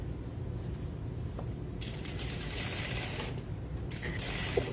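Sewing machine lock stitching the lining of a trench coat, a faint mechanical whirring in two short runs over a low steady background hum, with no voices.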